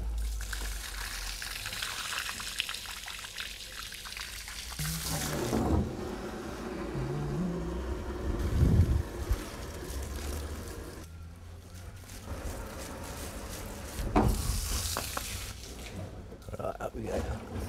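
Liquid sloshing and gurgling inside a motorcycle gas tank as it is rolled and rinsed with about five litres of fluid, under a steady background noise with swells of heavier splashing.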